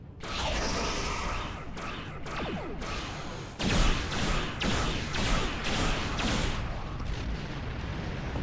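Starship weapons blasting in the space combat game Star Trek Online, a dense, loud barrage of repeated booming shots and explosions layered over continuous battle roar.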